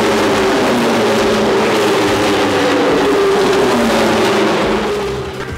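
Superbike racing motorcycles at Motorland Aragón give a loud, sustained engine roar that holds steady and fades slightly at the end, with no voices.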